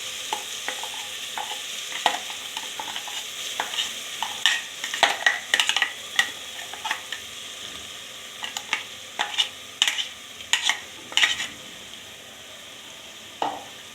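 Ground masala paste frying in oil in a pan for a sprouted channa masala gravy, stirred with a spoon: a steady soft sizzle broken by irregular scraping and clinking strokes, close and alone without speech.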